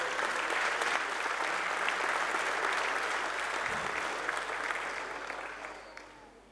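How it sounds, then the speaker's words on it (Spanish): Audience applause at a ceremony honouring local police officers for over twenty years of service, steady and sustained clapping from a crowd that gradually thins and fades toward the end. "Un aplauso."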